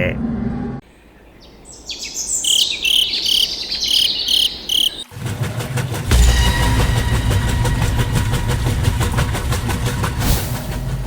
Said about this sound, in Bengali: ইঞ্জিনের শব্দটাকে একটু কমানো যায় না?